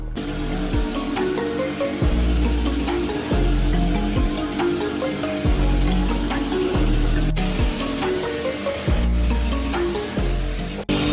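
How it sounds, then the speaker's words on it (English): A pressure washer sprays water over a car wheel, a loud continuous hiss broken by short regular pauses as the trigger is released and squeezed again, no talking. "Right, first step is to rinse the wheel."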